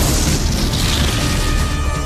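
A loud, sustained explosion boom rumbles and roars throughout, a continuous blast of noise with no talking, linked to terror drones over the Jammu sky.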